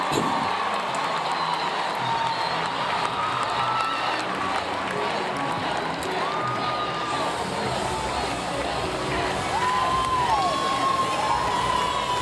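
Home crowd cheering in an arena at a college gymnastics meet between NC State and Clemson, a loud sustained roar with whoops and shouts filling the whole stretch, no pause.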